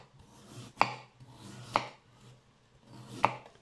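Three sharp knife strokes chop onion on a cutting board, finely mincing it for Filipino lumpiang shanghai; the crisp, close thuds come at roughly one-second intervals with quiet room tone between them.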